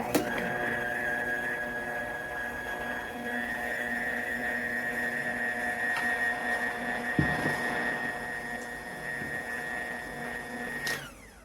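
A Nutrimill Artiste stand mixer creaming butter, a steady close motor drone with a high whine that runs unbroken before cutting off at the end, no talk.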